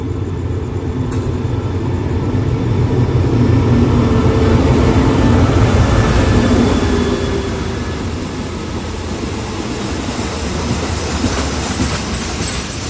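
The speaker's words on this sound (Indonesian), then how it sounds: "Kelihatannya kita menunggu bersilang dengan kereta api lain." A passenger train on a Thai railway line rumbles past close by on the adjacent track, loud and steady with wheel clatter and a faint squeal, swelling and then easing as it goes by.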